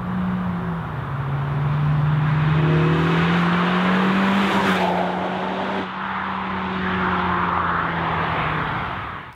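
Honda Civic Type R engine through its triple exhaust, a loud sustained drone that rises in pitch and holds, then dips and resumes, close and alone without talk.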